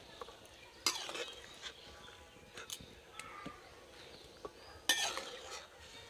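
Freshly steamed green peas lifted and strained from water in a kitchen pot, with sparse clinks of a metal utensil against the pan and soft wet scraping, quiet and close with gaps between strokes.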